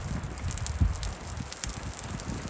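Strong wind gusting through trees in a snowy blizzard, a broad rushing roar with low buffeting thumps against a microphone, steady and fairly loud across the moment with no clear talk.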